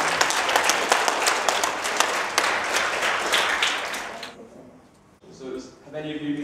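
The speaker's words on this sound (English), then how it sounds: "Please give a big round of applause to Nathan Delfouneso." An audience at a Show Racism the Red Card community trust event applauds a guest in a loud, dense burst of clapping that fades out partway, followed by a voice.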